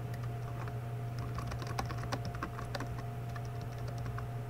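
Steady tapping on a computer keyboard while a search question is typed, close and fairly quiet with irregular clustered keystrokes and no speech.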